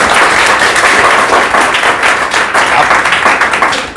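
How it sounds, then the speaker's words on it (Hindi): A Class 12 chemistry class applauds a student, dense loud clapping filling the room steadily from start to finish, tapering slightly at the end. "आप लोग ताली बजाकर अभिनंदन करेंगे।"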